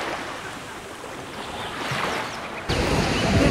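Surf washing onto the shallow white sand beach of Tortuga Bay, Galapagos, a steady broadband wash that swells louder near the end as a wave breaks close by, with wind noise on the microphone.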